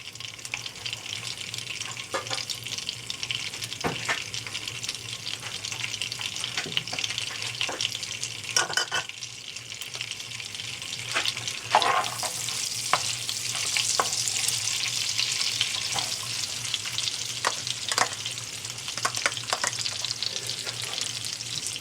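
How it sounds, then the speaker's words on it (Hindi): Onions and cumin sizzle steadily in hot oil in a pan for pav bhaji, with a constant close frying hiss broken by occasional stirring scrapes and faint splashes of water. "फिर प्याज डालते हैं।"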